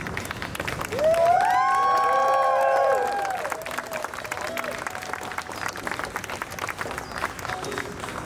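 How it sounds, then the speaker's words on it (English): A wedding ceremony crowd applauds the newly introduced couple, steady clapping with cheering, joined near the start by a few seconds of loud sustained music, and a voice speaks over the clapping as it carries on. "a big round of applause for our newlyweds, Mr. and Mrs. Soup."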